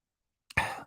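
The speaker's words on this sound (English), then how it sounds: "Sorry for the coughing." One short, dry cough, close and fairly quiet, after a brief catch of breath, then silence.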